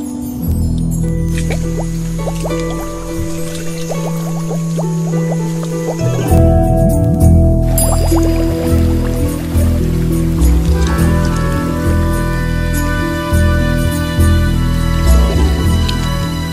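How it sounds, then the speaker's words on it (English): Crocodiles blowing bubbles in the water during mating give steady watery dripping and burbling, fairly close, under a continuous low rumble with layered tonal background sound throughout. "Blowing bubbles gets them in the mood."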